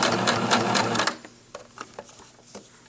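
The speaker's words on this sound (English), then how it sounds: "over my sewing machine arm. Place my presser foot down. And again, we're going to be going forward and then back stitching." Sewing machine stitching elastic onto a mitten: a rapid loud burst of needle chatter for about a second, then a few slower, softer individual stitches and clicks as it goes forward and back.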